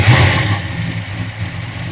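Carbureted car engine idling steadily after a quarter-turn adjustment of the idle speed screw, a close, even mid-pitched hum with no talk over it.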